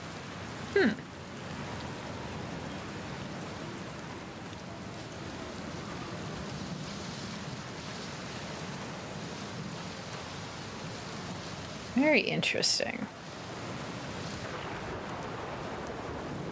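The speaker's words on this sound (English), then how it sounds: "Oh, storm. That sounds lovely." A steady rainstorm hisses evenly in the video game Outer Wilds, with two brief, sharp cracks of nearby thunder rising above the rain, and a voice briefly speaking over it.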